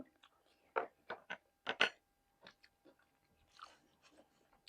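Crunchy pork crackling is bitten and chewed in a quiet close-up, giving a quick cluster of sharp, crisp crunches followed by softer, sparser chewing.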